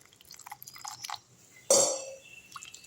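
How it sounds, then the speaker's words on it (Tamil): A short splash of water poured into a grinder while making black chickpea chutney, a single brief pour amid faint clinks and small drips. "இப்போ கொஞ்சமாக தண்ணி ஊற்றிக்கலாம்"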